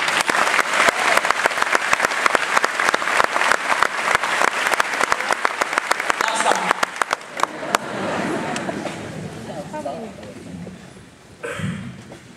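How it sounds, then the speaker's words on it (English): A graduation ceremony crowd applauds loudly with dense, steady clapping that gradually thins out and fades into murmuring voices. "I'd like to give a big round of applause to the teachers"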